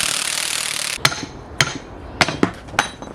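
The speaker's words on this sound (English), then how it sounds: "I'm going to try my oil pan removal tool here. See if I can pull this flange out with this bolt." Metal-on-metal strikes ring out as an oil pan removal tool is worked against a transfer case flange on an AWD drivetrain: five sharp, separate hammer-like blows with short ringing tails, following a brief stretch of hiss.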